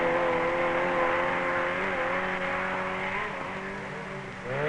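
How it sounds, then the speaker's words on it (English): Tiny Lewis's small-engined Imp rally car runs flat out on the Scottish Rally, a loud, close, sustained engine howl whose pitch shifts slightly as it holds high revs, easing a little near the end. "Here's Tiny Lewis's Imp, determined not to be outpaced by cars whose engines are in some cases 3 times the size of his."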